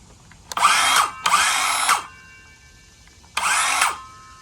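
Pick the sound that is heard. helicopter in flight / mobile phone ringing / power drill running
power drill running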